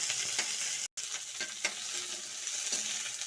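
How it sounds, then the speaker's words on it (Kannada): Chopped onion and ginger frying in oil in a pan, with a bright continuous sizzle and a few faint stirring clicks, nothing else over it. "ಶುಂಠಿ ಕಟ್ ಮಾಡ್ಕೊಂಡಿರೋಂಥ ಈರುಳ್ಳಿ ಎಲ್ಲ ಹಾಕಿ ಒಂದ್ಸಲ ಫ್ರೈ ಮಾಡಿ ಈ ಥರ"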